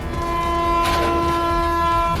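Train passing a railway crossing with its horn sounding a long steady blast over the rumble of the rail cars, loud and close throughout, with no talking.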